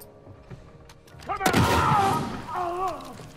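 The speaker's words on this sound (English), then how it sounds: "Smoke grenade!" A smoke grenade in The Last of Us bursts with a sudden loud pop and hiss that fades, while people shout and cry out over it.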